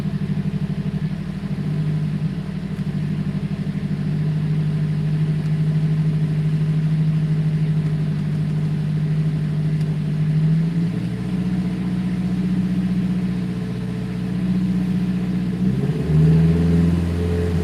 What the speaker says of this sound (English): Like I'm listening to the engine, it doesn't feel clean or sound clean.